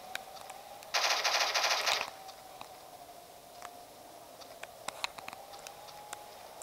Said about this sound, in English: saw machine gun